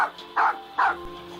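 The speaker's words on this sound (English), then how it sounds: "Okay, you ready to bark for me?" A dog barks on command, giving two sharp, close barks in quick succession, followed by a softer trailing yip.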